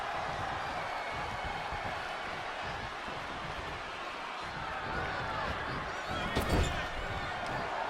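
A wrestling arena crowd roars steadily in WWE 2K20, a dense, continuous wash of cheering with a sharp thud or slam near the end.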